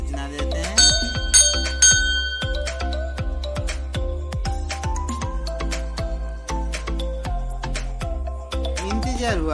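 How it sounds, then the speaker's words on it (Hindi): A temple bell at a Mahadev shrine is struck over and over in a fast, uneven rhythm, loud and close, its metallic ring overlapping and sustaining between strikes. "चलिए पहले घंटी बजा के उन्हें आने का सूचना देते हैं।"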